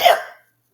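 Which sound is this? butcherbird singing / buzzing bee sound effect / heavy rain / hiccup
hiccup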